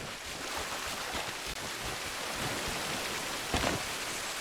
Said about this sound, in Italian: Ok, cascata dovrebbe essere questa.